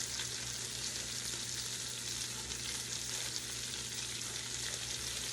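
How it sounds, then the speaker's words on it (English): Cabbage sizzling in a hot pan, a steady loud hiss of frying that holds evenly throughout with no talking. "I'm going to put part of the cabbage in"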